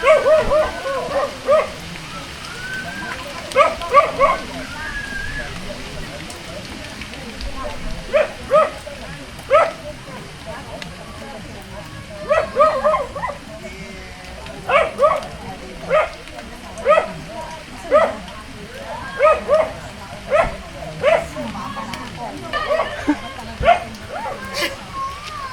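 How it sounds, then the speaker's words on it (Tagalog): Several dogs bark outdoors in rain near a house, repeated sharp yips and barks in bursts throughout, close and loud over steady rainfall, with people talking intermittently. "Aso."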